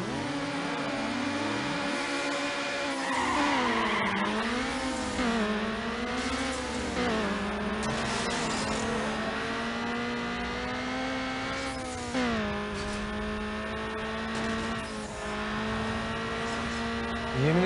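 Race car in Need for Speed Underground, its engine whining up through the revs and dropping sharply at each shift, with tire squeal on the corners, loud and continuous.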